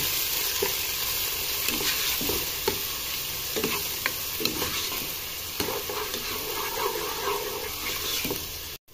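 Garlic ginger paste fries with onions in a pan, a steady soft sizzle with repeated scraping clinks of a spoon stirring at irregular intervals, moderately faint and close.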